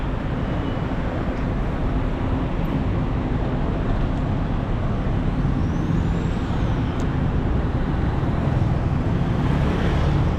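A city bus with air brakes rumbles in street traffic around Chow Kit, Malaysia, a loud, steady engine and road roar with faint hissing, and no talk.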